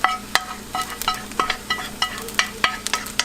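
Garlic and butter frying in a pan for Cantonese fried rice, with a utensil stirring and tapping against the pan in a quick, uneven run of sharp clicks over a soft, steady sizzle.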